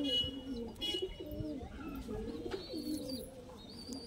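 Madrasi pigeons coo in repeated soft, throaty phrases, close and fairly quiet, with a few faint chirps and light background noise between the calls.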